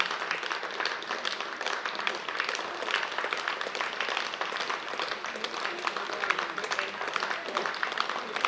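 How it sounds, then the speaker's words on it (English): Colleagues in a guard of honour clap steadily as a funeral cortege with a hearse passes, a dense, even patter of many hands sustained throughout at moderate distance. "And as Neil's cortege passes through the guard of honour, his colleagues are clapping"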